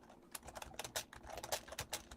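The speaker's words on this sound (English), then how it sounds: "Carl Johan, are you typing?" Typing on a computer keyboard during an online meeting, a steady patter of quick, irregular key clicks, close but quiet, with no talking.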